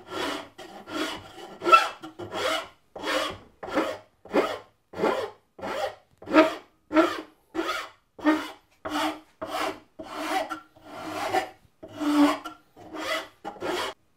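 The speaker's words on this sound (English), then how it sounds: "let's just knock this corner over and smooth out this edge a little bit" A wooden sword clamped to a workbench is smoothed along its edge with steady, evenly spaced back-and-forth rasping strokes, about twenty-two in a row, close and moderately loud, with no talking.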